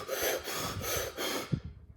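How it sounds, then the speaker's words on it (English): Quick, rhythmic breathing by a person in a deliberate demonstration of hyperventilation, with about four loud, rapid breath cycles up close and a sharp snort-like intake near the end. "I'm taking those hyperventilated breaths."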